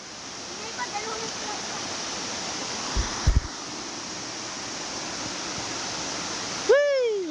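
Bangon Falls roars as a steady, broad rushing wash of falling water that fills the whole clip, with a few faint knocks partway through and a brief whistle-like sound at the end.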